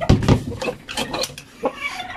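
Chickens on a chicken farm cluck in short, irregular bursts, close by and fairly loud, with a few louder calls near the start.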